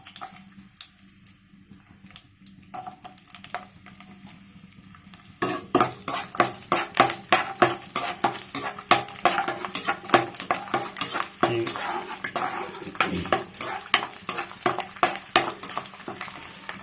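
Onions tipped into hot oil in a pan for drumstick leaves pickle set off a loud, steady sizzle that builds abruptly partway through, with dense crackling and occasional scrapes of stirring, no voices.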